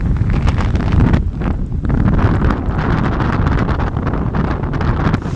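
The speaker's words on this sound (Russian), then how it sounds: "Ветрено у нас немножечко." Strong wind buffets the microphone in loud, continuous rumbling gusts, with a brief dip before it roars back steadily.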